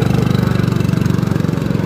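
A motorbike idles after pulling over during a roadside hitchhike in India, its engine a loud, steady low chugging pulse close at hand, with no talk over it.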